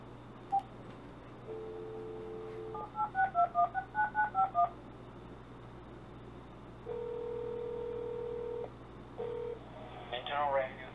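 A phone number is punched in with touch tones over a phone line, about eight quick evenly spaced beeps, followed by longer steady ringing tones and a brief burst of noise, all over a faint line hum.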